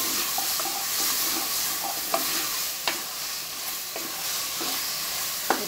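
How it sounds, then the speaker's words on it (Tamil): Chicken sautéing in a pan for curry, a steady close sizzle with a few spoon scrapes and clicks as it is stirred, no voices. "சிக்கன் அப்படி நல்லா வதக்கிட்டு"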